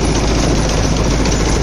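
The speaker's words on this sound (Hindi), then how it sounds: "दड़दड़ा रहा है जी रोटावेटर" A Mahindra 595 DI turbo tractor runs a rotavator at high RPM, making a loud, close, unbroken engine roar with a rattling, vibrating churn throughout.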